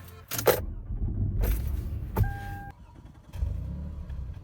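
A 20-year-old luxury SUV being started: a few keys jangle and click nearby, a brief electronic chime sounds, then the engine turns over and settles into a low idle, with no talking.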